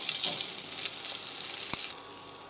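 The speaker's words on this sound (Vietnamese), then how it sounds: "Nồi nóng rồi, chúng ta cho cái hành này vào, chúng ta phi cho nó thơm." Chopped shallots sizzle and crackle as they fry in oil in a hot pot, a steady close hiss with faint stirring taps and no speech.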